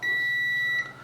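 A multimeter set to continuity gives one clear, steady electronic beep lasting just under a second while testing a C13 power cord, close and clean, then stops.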